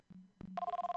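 A cell phone in The X-Files video game starts ringing after two brief clicks, then gives a steady pulsing electronic trill, close and clear, with no voices.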